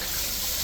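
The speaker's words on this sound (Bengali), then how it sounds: "এখন জল দিয়ে দিলাম" Water pours into a pan of fish curry with katla fish and fried potatoes, giving a brief, steady, loud rush of liquid.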